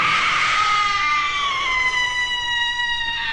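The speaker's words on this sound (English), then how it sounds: "All of a sudden, the frightening scene was disrupted by a blood-curdling scream." Blood-curdling scream in a Halloween graveyard horror story, a long piercing high-pitched wail that holds and slowly bends downward for over three seconds, loud and alone.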